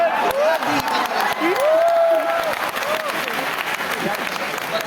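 A seminar audience claps in a dense, steady burst of applause, close and continuous, with a voice speaking over it.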